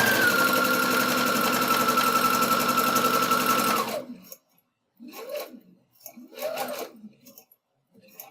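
Home sewing machine stitching fabric for a dog collar bandanna: a loud steady motor whir with fast needle chatter runs for about four seconds, then stops, followed by a few quieter bursts of rustling and handling.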